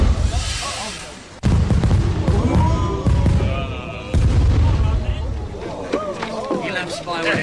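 Fireworks bangs in a Faerie Tale Theatre film of The Little Mermaid: a few heavy, deep booms at irregular intervals sound under a busy layer of music and voices.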